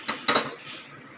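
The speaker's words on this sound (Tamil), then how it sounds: "இப்போ நான் கடாயை வச்சிடுறேன்." A kadai set down on a kitchen stove, giving two sharp metallic clanks in quick succession followed by a short ringing decay, close and clear with no voices.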